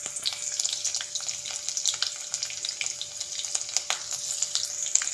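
Cumin seeds and chopped garlic sizzling in hot oil for a potato bhaji, a close, crackling fizz with a rapid popping texture, steady throughout and free of speech.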